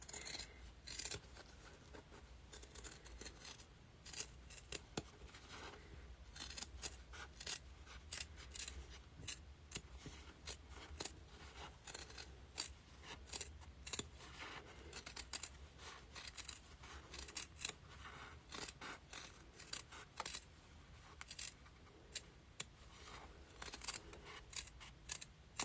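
Scissors snip steadily through sewn fabric to cut out a carrot-shaped pouch with a quarter-inch seam allowance, a long run of close, quiet, rhythmic crisp cuts and faint rubbing.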